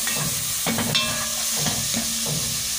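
Spices and curry leaves fry in a little oil for an achari moong dal, giving a steady close sizzle broken by a few soft stirring scrapes.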